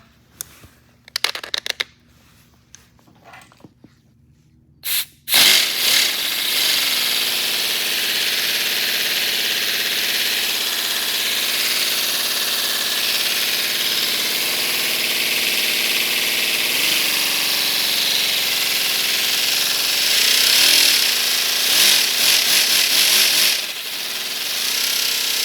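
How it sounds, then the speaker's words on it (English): A miniature V12 Lamborghini model engine with full exhaust sputters through a few brief attempts, then catches and runs continuously, a loud, high-pitched buzzing rev that holds steady for about twenty seconds before easing slightly. "A V12 engine that fits in your hand."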